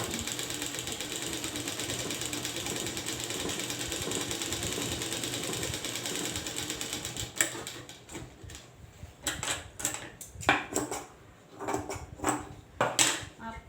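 Sewing machine running a double seam on blouse fabric, a steady continuous whir for the first half, then broken into short bursts and stops as the stitching is guided.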